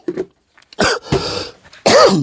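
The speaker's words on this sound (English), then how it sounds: "I cough, you hear it" Several close coughs with short gaps between them, the last one harsh and strained, heard alone without talk.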